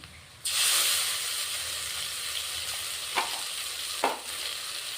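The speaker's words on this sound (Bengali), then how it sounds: "এক চামচ কাঁচা লঙ্কা বাটা দিচ্ছি" A spoonful of green chilli paste hits hot oil in a pan for a fish curry and bursts into a loud, steady sizzle that eases slightly, with two sharp stirring scrapes near the end.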